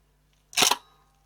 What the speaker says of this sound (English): If I connect it to my 500C house and the shutter is cocked, and then fire it.